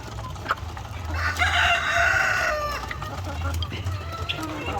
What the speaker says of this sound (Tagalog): Idahan-dahan natin pagpasok dito dahil mabubulabog talaga itong mga manok na ito